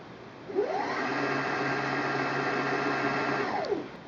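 A Singer Quantum Stylist 9960 sewing machine winds a bobbin. Its motor spins up, holds a steady high whir for about three seconds and then winds down. The sound is close and continuous, with no talking.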